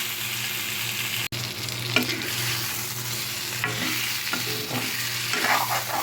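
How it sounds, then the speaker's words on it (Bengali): Masala being stir-fried with potato and taro on low heat, a steady close sizzle under a low hum with occasional scraping stirs and one sharp knock, no talking. "লো হিটে রেখে আরও দু থেকে তিন মিনিট মশলাটা আমি কষিয়ে নেব আলু আর কচুর সাথে"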